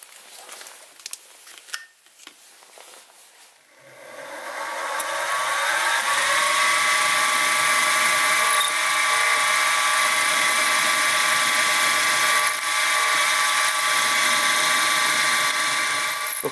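A drill opens holes with a 2.7mm bit in a steam chest part for a Stuart 10V model steam engine. A few clicks come first, then the motor spins up to a steady, loud, high whine that holds to the end.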